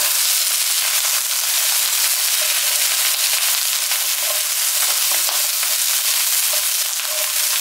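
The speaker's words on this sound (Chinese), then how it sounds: "炒出香味之后呢就可以放入鸡爪了" Chicken feet stir-frying in hot oil with spices give a steady, dense sizzle and crackle that runs loud and unbroken, with occasional stirring clicks and no talking.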